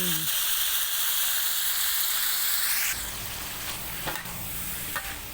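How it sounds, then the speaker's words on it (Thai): Loud, steady sizzling of sliced chicken being stir-fried in a hot pan, with occasional clinks and scrapes of a utensil as it settles slightly quieter. "จากนั้นก็ผัดให้เข้ากัน"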